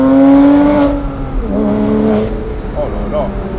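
Porsche Boxster S in sport mode accelerating hard, its engine note rising in pitch through a gear then climbing again, loud and close from inside the car while people talk over it.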